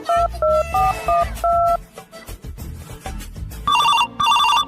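A telephone is dialed with a quick run of sharp DTMF keypad tones, followed by loud repeating electronic ring bursts. No one speaks.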